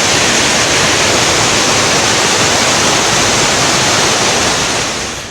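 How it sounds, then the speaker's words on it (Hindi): Torrential rainwater rushes in a loud, dense roar as a flood surges at the Pavagadh hill shrine in Panchmahal during heavy monsoon rain, steady throughout and easing slightly at the end. "बारिश के पानी का बहाव इतना है कि सब कुछ अपने साथ बहा ले जाने को बेताब है।"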